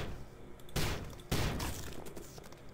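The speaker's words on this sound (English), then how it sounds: "Let's put the explodey thing over that." Explosions in the video game Prey, two loud sudden blasts a fraction of a second apart, each trailing off into rumbling debris, no talk over them.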